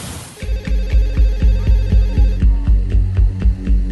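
A telephone rings late at night in a home in Bhopal, a loud, steady bell-like trill repeating in even pulses about twice a second, close by and heard alone.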